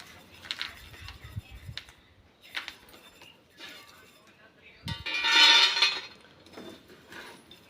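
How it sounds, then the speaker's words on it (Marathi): Roasted peanuts scraped out of a hot tawa, with scattered clinks and a brief rattling burst in the middle, mixed with a voice talking nearby. "एक पाच मिनटं झालेली आहेत तव्यामध्ये तसेच शेंगदाणे होते आता हे काढून घेऊया आपण"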